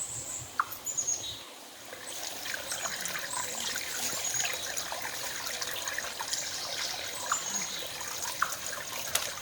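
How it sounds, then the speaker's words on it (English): Water trickles softly and steadily beside a Canadian backcountry wilderness trail, faint and low beneath occasional bird calls, with no talk. "you can hear a little bit of water Trickling"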